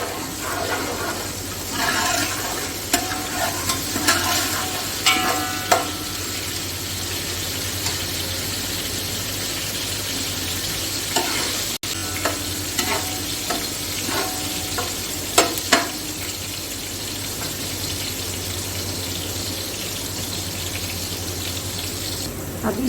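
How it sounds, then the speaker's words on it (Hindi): Crushed ginger and garlic fry in a pan with a continuous close sizzle and hiss, broken by occasional scraping stirs and clinks of a utensil over a long stretch. "इसी में डालूँगी अदरक और लहसुन, 2 टेबलस्पून है तकरीबन कुटा हुआ, और इसको थोड़ा सा फ्राई करेंगे"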